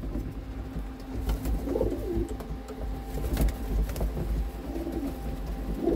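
Pigeons coo softly and repeatedly in a small coop in winter in Ontario, Canada, low throaty calls rising and falling over a steady background hum, with no talking.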